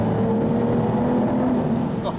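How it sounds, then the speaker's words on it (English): Aston Martin DBS V12 engine revving in an underpass, a loud sustained droning roar echoing close by, with a voice talking over it. "I'll squeeze the throttle again and try and get that V12."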